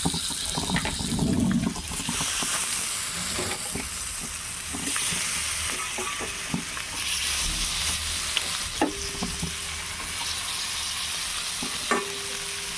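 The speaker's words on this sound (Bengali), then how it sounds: "এটা আমি পুরো ডিপ তেলে ফ্রাই করবো না, ডিপ ফ্রাই না, একটু জাস্ট তাওয়াতে সেঁকে নেব" Shrimp pan-frying in butter on a flat tawa, a steady broadband sizzle with soft crackles and occasional stirring clinks, fairly constant and close throughout with no talking.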